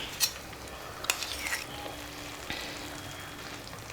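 Rava halwa with ghee is stirred in a pan, giving a soft sizzle with scraping spoon strokes and a few sharp clinks against the pan, close and fairly quiet.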